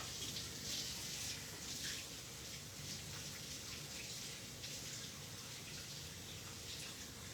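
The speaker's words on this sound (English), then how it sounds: "Let me rinse my hands off." Running tap water pours steadily as hands are rinsed at a kitchen sink, a constant close hiss with faint splashing throughout.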